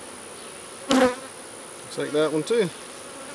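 Honey bees buzz around an opened hive during a honey harvest, a faint steady drone beneath brief snatches of nearby talk.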